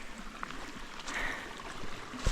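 A stream on a coastal hiking trail in the Fundy area flows with a steady, soft rushing and trickling of water, continuous and fairly close, with no voices.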